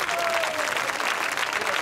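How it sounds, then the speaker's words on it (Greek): Loud, dense applause from an audience at a kindergarten English show, steady and sustained throughout with a faint voice rising briefly over the clapping. "Ένα δυνατό χειροκρότημα."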